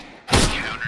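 A gunshot burst in CS:GO during a one-on-one Tec-9 match, a sudden loud broadband crack that rings on for most of a second, standing alone without talk.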